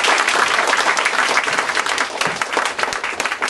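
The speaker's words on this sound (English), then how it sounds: "one last round of applause for Dan Falk" Audience applause for Dan Falk at the close of a talk on time, a dense, steady wash of many hands clapping throughout, loud and sustained with no voices over it.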